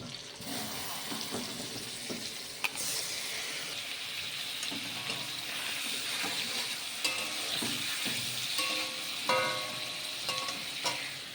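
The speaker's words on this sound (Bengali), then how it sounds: "বাটার পনিরটা একটুখানি বাটারে নেড়ে চেড়ে নেব শুধু" Paneer stirred and fried in butter in a pan, with a steady soft sizzle and scraping strokes of a spoon running throughout at close range, plus occasional clinks and a brief watery splash near the end.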